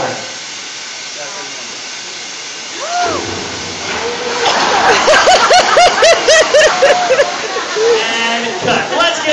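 Water is poured over an actor during a film-set scene of a ship losing its engines and taking on water. A loud, rushing, hissing splash starts partway through and continues under tonal voices talking and exclaiming.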